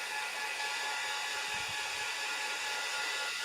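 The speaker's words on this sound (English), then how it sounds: "let's just take our heat gun" A heat gun blows hot air across a napkin craft project, giving off a steady, loud, broadband hiss that stays constant the whole time, with no talking over it.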